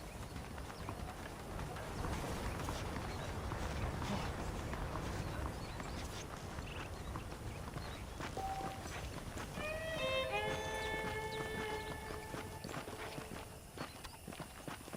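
Horse hooves clip-clop at a steady walking pace in the Red Dead Redemption game world, with birdsong and faint ambient wind over the hoofbeats.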